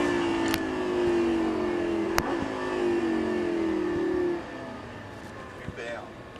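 Lamborghini LP560-4 on a track, its engine note sustained and then dropping off sharply as the car brakes, with faint clicks and occasional brief talk in the cabin.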